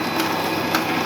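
A Brother electric sewing machine's bobbin winder spins thread onto the bobbin, giving a steady, close whirring hum with a faint mechanical rattle throughout.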